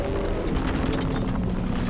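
In Horizon Forbidden West, the salvo cannons on a Tremortusk are blown off, giving a loud, rumbling explosive roar with a sustained low boom that fills the whole short moment.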